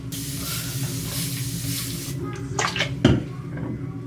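A hydrating mist is sprayed onto hair in a hiss that runs for about two seconds and then fades, followed by a few shorter spritzes and a soft clatter nearby.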